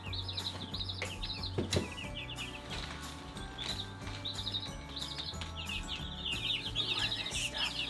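Twenty-nine newly arrived baby chicks peep in a box in a repeated chirping chorus. The calls are steady and fairly close, layered over low background noise and a few thumps.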